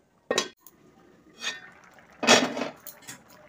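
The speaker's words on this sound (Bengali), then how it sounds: "ঢাকনা দিয়ে দেব" Metal lid set onto a cooking pot of moong-kalai tadka, a few close clanking knocks and a scrape, standing alone with no voices.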